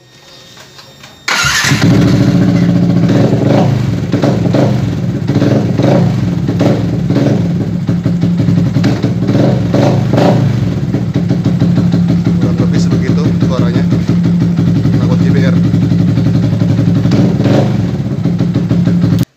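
A Yamaha Vixion motorcycle with an aftermarket GBR silencer starts up and idles with a loud, throaty, rapid exhaust burble, steady and close.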